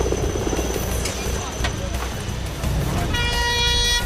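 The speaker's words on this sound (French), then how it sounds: "L'hélicoptère repart avec le blessé." A Paris fire brigade helicopter lifts off carrying an injured person, its rotor and turbine roar continuous and fairly loud, with a tonal whine rising near the end.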